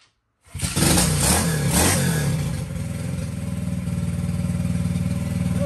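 A Honda SL70 motorcycle fitted with a Lifan 125 engine starts up and settles into a steady, close idle with a rapid, even mechanical throb. A brief rev comes near the start, and the engine runs alone with no talk.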